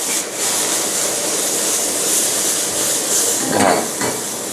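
A shrimp stuffing for tomatoes, seasoned with Tabasco, sizzles and is stirred in a hot pan, a steady close frying hiss with scraping utensil strokes and a brief louder stir near the end.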